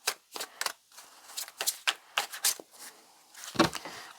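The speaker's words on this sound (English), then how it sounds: "I do apologize for the shuffling time, but I felt like I had to shuffle on camera" A deck of cards being shuffled by hand, heard as a series of short crisp riffling bursts with brief gaps between them, close and fairly quiet, with no talking.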